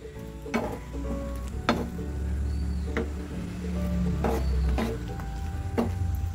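Raw plantain pieces being stirred in a pan for a sweet snack: scraping strokes and soft knocks recur over a low sizzle, close and fairly quiet, with no talking.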